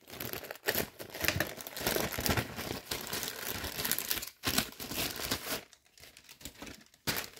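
Close, crisp crinkling and tearing as a package mailer holding wrestling cards is cut open and ripped apart, irregular bursts of crackling plastic and paper with brief pauses, no talking.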